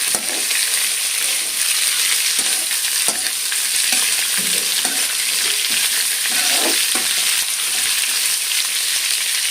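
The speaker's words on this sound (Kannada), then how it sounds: "ಈರುಳ್ಳಿನ ಒಂದು ಅರ್ಧ ಚೆನ್ನಾಗಿ ಫ್ರೈ ಮಾಡ್ಕೋಬೇಕು" Onions frying in a pan for tamarind rice, a steady close sizzle running throughout with occasional soft scrapes and stirring taps, no voices.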